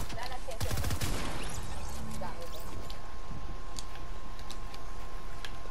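Rapid bursts of gunfire from a Fortnite match, dense volleys clustered in the first second then scattered shots and clicks under continuous game noise, with a voice talking over it.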